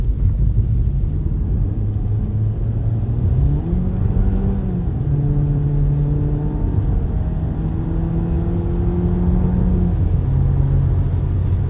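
Jeep Compass engine under kickdown while driving out of town: revs climb and hold in a rising, wavering drone over constant road rumble, shifting smoothly, with no voices.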